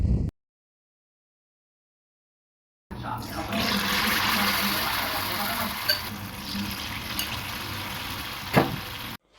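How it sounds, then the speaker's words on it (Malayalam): Sukhiyan dipped in maida batter fry in hot oil, a steady bubbling sizzle that starts abruptly after a brief silence and continues at moderate level, with a few small clinks. "മൈദയുടെ ബാറ്ററിലോട്ട് മുക്കി നമുക്ക് ചൂടാക്കി കിടക്കുന്ന എണ്ണയിലോട്ടൊന്ന് ഇട്ട് കൊടുക്കാം."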